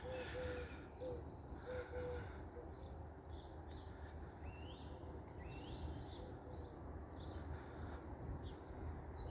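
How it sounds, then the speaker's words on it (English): Birds in a still January allotment: a wood pigeon's repeated low cooing alongside a magpie cawing and scattered higher calls and tweets from other birds, fairly distant and faint over a quiet background. "There's magpie cawing, there's a wood pigeon, obviously various other birds tweeting."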